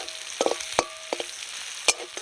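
Small river fish fry in hot oil with a faint steady sizzle, punctuated by several sharp clinks and scrapes of a utensil against the pan, close and moderately quiet.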